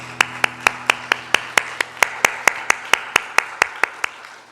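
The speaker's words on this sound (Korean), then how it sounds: "하나님께 영광 박수 올려드리겠습니다." A church congregation claps in unison during a Korean anniversary Sunday worship service, sharp evenly spaced claps in a steady rhythm, about four per second, ringing in the room with a low hum underneath.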